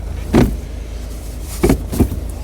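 A smooth, muted mechanical clunk of an Aisin gearbox shifting inside a Peugeot 308 SW 1.6 HDi, heard a few times over a low steady engine hum, soft and close.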